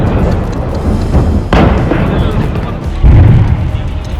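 Heavy booming blasts from a series of explosions at a chemical company, loud with two sharp, rumbling hits a second or so apart, heard under a talking voice.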